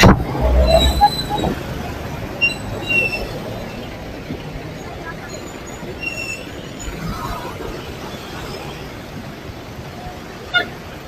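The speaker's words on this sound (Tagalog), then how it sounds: "Ang tindi ng traffic guys oh." Heavy road traffic on the way to a jeepney terminal toward Los Baños, with scattered car horn toots over a steady low rumble of engines, a louder honk near the start and a short toot close to the end, with faint voices mixed in.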